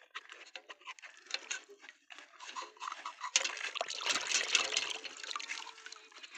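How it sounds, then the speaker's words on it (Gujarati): Water splashes and trickles over a muddy toy as it is rinsed clean, a steady patter that grows fuller and louder partway through, heard close with no talk. "આને સાફ કરી દઈએ સરસ પાણીથી"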